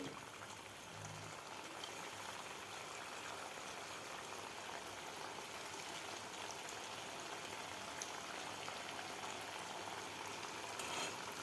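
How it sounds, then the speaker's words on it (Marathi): Potato smileys frying in oil on medium heat, a steady, faint bubbling sizzle that stays even throughout with no talk. "मिडियम हीटवरच आपल्याला स्मायली तळून घ्यायचे आहेत तर यामध्ये घालून घेऊया आपण स्मायली"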